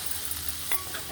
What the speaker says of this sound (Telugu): నేదొండకాయలు ఫ్రై.